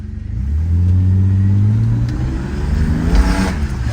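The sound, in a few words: 1990 Mercedes-Benz 300E six-cylinder engine revving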